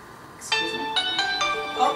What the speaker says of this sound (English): My phone's ringing, folks.